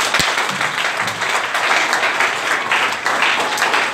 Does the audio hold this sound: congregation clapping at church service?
yes